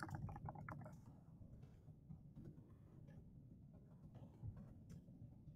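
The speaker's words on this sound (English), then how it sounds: "So I can just start typing here whatever comes to mind." Typing on a computer keyboard while writing notes in an online test platform's notepad, quiet irregular key clicks in short bursts over a soft low background hum.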